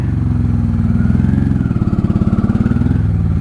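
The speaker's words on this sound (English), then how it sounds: "Sounds pretty good for a 600 Shadow." A 1995 Honda Shadow VLX 600 (VT600CD) motorcycle engine runs steadily at close range. It gives a loud, low, throbbing rumble with even pulses and no talk over it.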